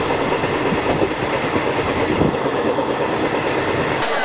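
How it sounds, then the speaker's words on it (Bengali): Shalimar Okha Express (22906) train rolling into Rajkot Junction, a steady loud rumble of railway carriages with continuous wheel noise throughout, no talking. "ট্রেনটা চলে এসছে রাজকোট জংশন আর আমাদের টোটাল 2330 কিলোমিটারের জার্নি কমপ্লিট হলো।"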